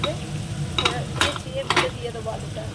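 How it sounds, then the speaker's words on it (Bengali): Potatoes fry with turmeric for a meat curry, a steady close sizzle with a spatula stirring and scraping the pan at intervals; no one speaks over it. "মাংসের আলুটা একটু ভাজে দিয়েছি হলুদ দিয়ে"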